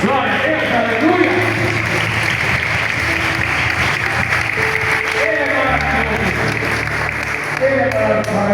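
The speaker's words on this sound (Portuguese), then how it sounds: "Vamos aplaudir o nosso Senhor Jesus Cristo." A church congregation claps loudly in praise, dense applause running throughout and mixed with voices, shouts and sustained musical tones, close and full.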